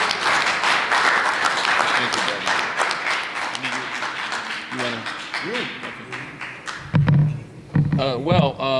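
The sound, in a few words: applause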